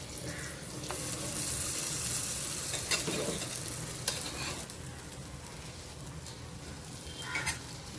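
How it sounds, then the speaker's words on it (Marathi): Mini cheese dosas frying on a hot tawa, with a continuous sizzle and scraping stir sounds, a few sharp clicks of a spatula against the pan, close and without talk. "आता दुसऱ्या साईडने पण छान आपल्याला फ्राय करून घ्यायचे"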